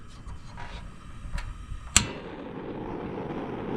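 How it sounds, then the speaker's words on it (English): Camping stove igniter at full blast gives a single sharp click, followed by a steady soft hiss of burning gas; a few faint ticks come just before it. "if I turn it all the way to the fully blast full on, it's going to click"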